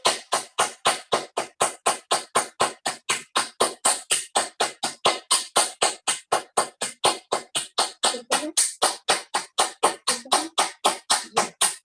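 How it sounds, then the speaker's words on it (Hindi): Loud, steady rhythmic hand clapping, about forty sharp close claps in quick even succession, from a group during a yoga meditation session, with no talking over it. "सबसे पहले हम लोग 10-15 बार जोर जोर से ताली बजाएंगे"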